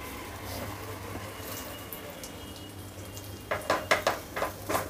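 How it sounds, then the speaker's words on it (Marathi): Garlic fries on a tava for a bombil and bhindi fish curry, giving a faint, even sizzle that turns into a quick run of close utensil clatters and scrapes near the end. "लसूण चांगला असा लालसर करून घ्यायचा. तव्यात घालून घेते मी."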